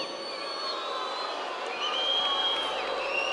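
An audience at the 2024 Viña del Mar International Song Festival applauds an Italian contestant, a broad, steady wash of clapping and crowd noise in a large venue, heard from a distance and sustained throughout.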